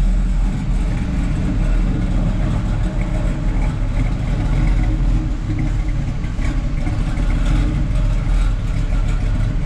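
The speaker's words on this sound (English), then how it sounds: "I'll let you listen to the engine and the dual exhaust." A cold 1969 Camaro SS 396 big-block V8 idles steadily with a deep, rumbling dual exhaust, loud and close throughout with no talking.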